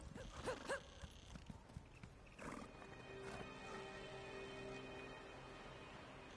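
Horse hooves clip-clop in Elder Scrolls Online, with faint early footfalls and a whinny before a steady ambient game hum with a sustained tone continues alone.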